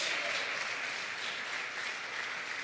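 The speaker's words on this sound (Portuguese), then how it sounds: "aplauda o nome do Senhor Jesus" A church congregation applauding together in a steady, continuous wash of clapping, moderately distant and even in level, with no voices on top.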